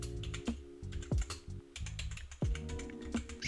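Typing on a computer keyboard, close and fairly loud, sounds as a steady run of quick clicky keystrokes with a few heavier key thumps scattered through, and no voice over it.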